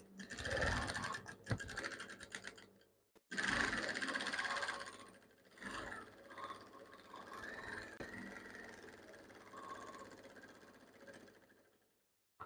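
A sewing machine runs in steady bursts, top stitching fabric for palazzo pants, with a brief pause, then a softer, lower whirring stretch that fades before a final click.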